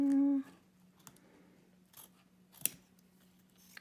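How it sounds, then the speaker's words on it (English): Scissors cutting a computer zip bag along its zipper tape make a few sparse, brief snips and clicks, one sharper than the rest, close by in an otherwise quiet room. "We're gonna cut left and right."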